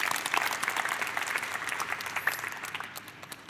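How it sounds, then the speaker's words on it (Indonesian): Applause from a church congregation during a sermon, a dense steady patter of many hands that starts strong and gradually thins and fades, heard alone without talk. "Tepuk tangan."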